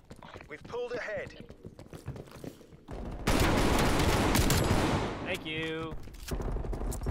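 Gunfire in Call of Duty Cold War, a loud sustained burst of rapid shots in the middle, fading out, with game voice lines and chatter before and after.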